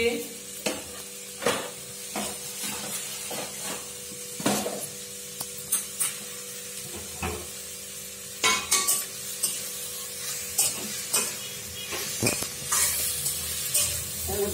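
Pumpkin kofta curry stirred and fried in a pan, a steady sizzle with repeated scraping clatters of a spoon against the pan, close and fairly loud, with no talk.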